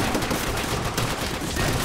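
Dense, continuous automatic gunfire from a World War II shooter game, Call of Duty: World at War, with machine gun bursts running through a busy, loud battle soundscape.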